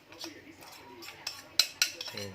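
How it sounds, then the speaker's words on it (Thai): Dried chilies and garlic pounded in a mortar, a few quiet knocks and sharp clinking strikes at uneven intervals, the last two blows clearly louder, set against a hushed kitchen background. "อันนี้ผมตำมีพริกแห้ง แล้วก็มีกระเทียม แล้วก็มีขา ผมจะตำใส่ก่อนนะครับ"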